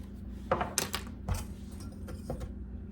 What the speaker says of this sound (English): I'm just going to whisk all these dry ingredients together.